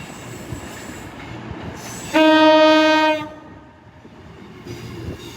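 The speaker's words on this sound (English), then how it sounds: "it's always nice to see an Avanti Voyager. This is pulling in next to us" Avanti Voyager train pulling into a platform at London Euston on a snowy evening, sounding a loud, steady two-tone horn for about a second over a rumbling station background.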